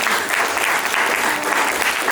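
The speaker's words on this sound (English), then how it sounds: "Give them a round of applause." A crowd at a college sports team media day claps in a steady, continuous burst of applause, with a few voices mixed in.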